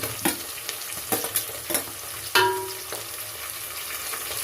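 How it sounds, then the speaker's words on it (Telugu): Chopped tomato drops into a hot frying pan while cooking kichidi, a short sizzle answered by a few quick stirring scrapes that come and go close by, with no talking. "ఇప్పుడు టమాటో అయితే వేస్తున్నాను."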